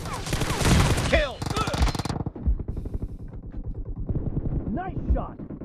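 Bursts of automatic gunshots in a PUBG Mobile team deathmatch, loud and close, with short pauses between volleys and game voice callouts heard over the firing.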